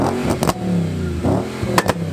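An Audi B7 RS4 Avant track car on a track day at Oulton Park revs its engine hard, sharp pops and bangs cracking out between the rising roars, close and loud.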